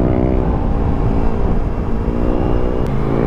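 A Kawasaki Ninja ZX-4RR with no muffler fitted revs hard and close, its loud raw engine note holding steady with small rises and dips throughout.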